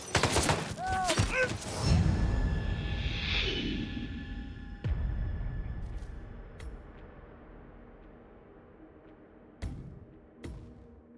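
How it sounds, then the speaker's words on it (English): Gunfire in the stealth video game Hitman World of Assassination, a sharp burst of shots up front followed by a few scattered distant cracks and thuds over a lingering ambient bed. "Gunshot. Go see where that's coming from."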